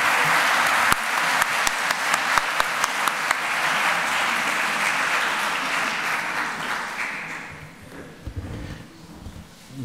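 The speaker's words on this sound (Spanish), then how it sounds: "pedirles un fuerte aplauso" Applause from an audience at an academic lecture on standards of proof, a dense steady clapping with a few sharp, close claps standing out, fading toward the end as a voice begins to speak.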